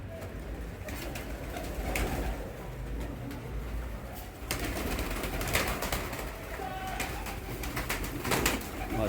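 Pigeons coo softly and repeatedly against a rustling, noisy background, with occasional wing flutters and scuffling.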